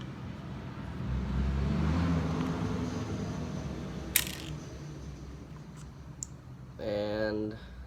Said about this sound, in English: sorry for the loud noise too, there's a lot of cars right now